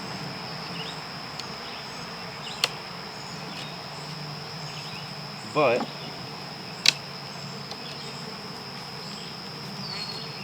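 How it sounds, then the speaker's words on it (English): Honeybees buzz around an open beehive as frames are handled: a constant mid-pitched drone of many bees nearby, with a closer bee swooping past partway through and a couple of sharp clicks, under a brief spoken word. "I have bees buzzing around me."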